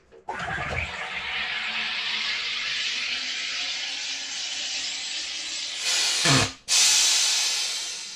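An Aarke Carbonator 3 hisses steadily and loudly at close range as it pressurises water with gas. The hiss is followed by a sharp burst as the lever is released, then a second long hiss. Nobody speaks.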